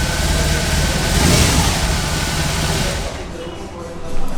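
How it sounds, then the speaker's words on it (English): BMW R18 motorcycle with a boxer twin engine starts and settles into a loud, close, throbbing idle, with a rhythmic low pulse and a brief blip near the end. "The bike rocks, and the reason for that is this engine is a boxer."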